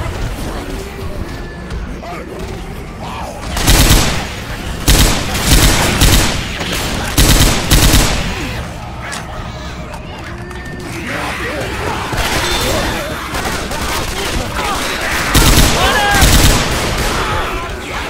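Rapid gunfire rattles through a Left 4 Dead 2 cave map, with loud bursts of automatic shots and heavy blasts recurring over continuous game ambience, while players talk over the shooting.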